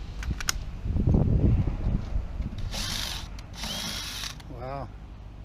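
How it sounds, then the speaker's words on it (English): Power drill driving into a sailboat mast to drill and tap a screw hole for a furling mast track, a close, buzzing grind with a few short bursts and faint voices in between. "Now you can drill and tap easy."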